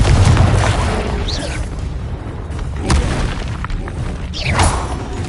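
A Confringo blasting curse sets off booming explosions. Deep thuds land at intervals over a rumbling background, with a few whooshing bursts layered on top.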